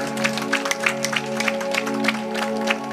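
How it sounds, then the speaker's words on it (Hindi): Audience applause at a village gathering honouring the headman, a dense even patter of clapping lasting the whole few seconds, with a steady tonal hum beneath it. "एक बार उनके लिए भी जोरदार तालियां।"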